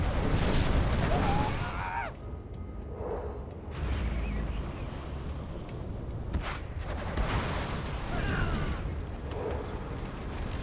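Scud missile strikes in a real-time strategy match, loud rumbling explosions landing in waves with short quieter gaps between booms, a voice faintly talking underneath.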